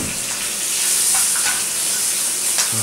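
Bacon frying in a pan at a homestead breakfast, a loud continuous close-up hiss and crackle with faint scattered pops and no talking.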